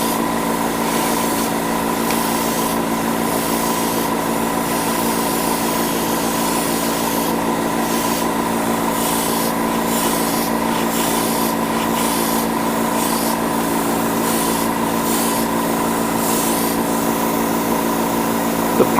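An airbrush sprays primer onto blue Gundam model kit parts, giving a steady hiss broken into repeated short bursts as the trigger is pulled and released, with no one talking.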